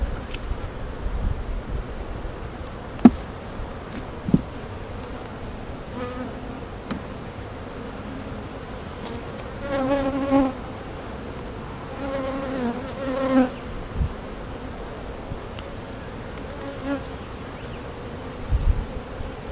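Honey bees hum steadily around an open beehive, a dense, close buzz with individual bees rising and passing nearer at moments, against light wind on the microphone.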